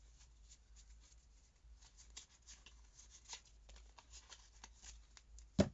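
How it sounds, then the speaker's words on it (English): Soft, continuous riffling of cards being shuffled, a faint papery flutter with a sharper snap at the very end. "I'm going to do a quick little shuffly poo."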